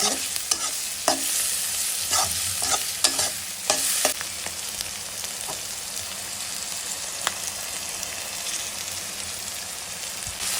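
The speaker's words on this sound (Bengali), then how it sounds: "কাঁচা থেকে একটু ভেজে নেবো" Raw green plantain frying lightly in an oil pan for a mashed bhorta, with a soft continuous sizzle and several brisk spatula stirs and scrapes early on that then settle into quieter frying.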